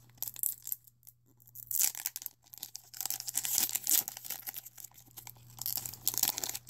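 Foil wrapper of a Pokémon BREAKPOINT booster pack being torn open and crinkled up close, with bursts of tearing and rustling between quieter moments.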